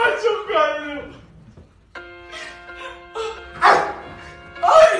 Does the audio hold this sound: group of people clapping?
no